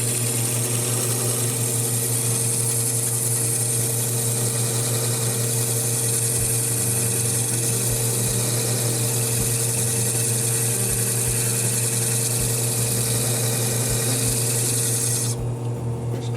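A faceting machine grinds crown facets on a quartz gemstone in a Portuguese cut, giving a steady, continuous motor hum with a fine rasping rub that runs unbroken and close throughout.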